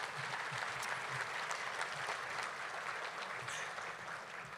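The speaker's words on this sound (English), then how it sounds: "Please give a round of applause for our sponsors." Audience applause for sponsors at an annual chamber meeting, even sustained clapping from a seated crowd, soft and somewhat distant, with no talk over it.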